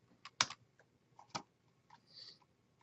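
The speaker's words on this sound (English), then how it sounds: "I'm going to type in Frankenstein." Keys tapped on a computer keyboard while searching a library database, a few isolated clicks and one firmer keystroke spread over about three seconds, close but faint, no talking.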